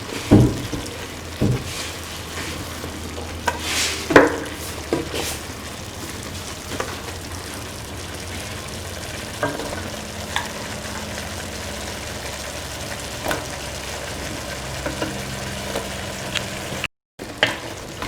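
Bottle gourd pieces are stirred into a sizzling beef stew mixture in a pot, steady frying hiss under occasional scraping and clinking of a spoon, close by and without speech.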